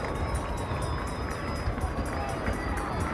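A soccer crowd at a Sarasota Paradise versus St Pete FC match roars as fans rise to their feet, a broad, sustained stadium swell with a shrill whistle-like tone running through it.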